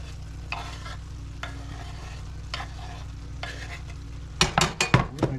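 Onions and a burger searing in a pan over a high wood fire at an off-grid cabin, a low steady sizzle with soft periodic stirring, then a burst of sharp metal scraping and clinks near the end.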